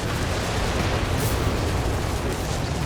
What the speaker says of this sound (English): Big incendiary attack from the Infiltration battle group from Haxes